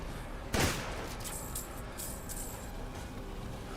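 A single loud gunshot-like blast from a shotgun in the survival horror game Resident Evil Village, followed by faint clinks and a low steady background hum.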